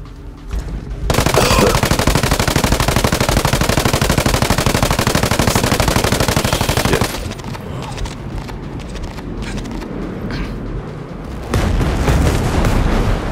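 Heavy gunfire and mortar fire in Ghost Recon Breakpoint: dense, loud, rapid bursts pound almost without a break for several seconds, then ease into a lower rumble before another loud volley near the end.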